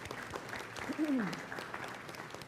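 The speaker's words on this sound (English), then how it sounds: "Let's applaud them." Audience applause at an education summit, a soft, even spread of clapping with a voice briefly calling out over it in the middle.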